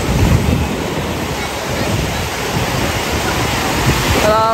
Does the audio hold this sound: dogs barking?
no